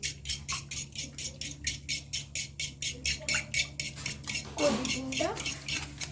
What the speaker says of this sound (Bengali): তারপর দইটা ভালোভাবে গুলছে, কিন্তু ফেটে নিচ্ছে দইটা, খুব ভালোভাবে ফেটাচ্ছে।